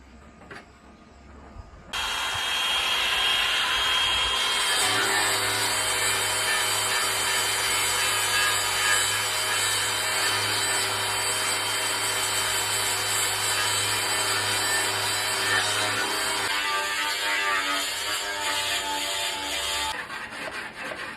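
Wooden sanding block rubbed back and forth over a wood surface, a steady, continuous scraping rasp close to the mic that runs nearly the whole time, with no talking.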